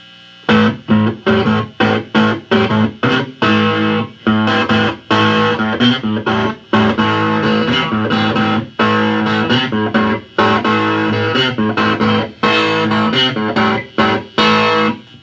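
A three-string cigar box guitar, boosted and distorted, plays loud choppy chords and riffs through an amplifier, with short stops between strummed phrases.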